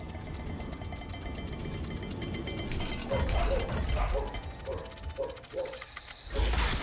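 A puzzle dial mechanism in the Hogwarts Legacy video game turns with ratcheting clicks and grinding gear sounds, a short series of rhythmic clunks in the middle before a final heavier clank.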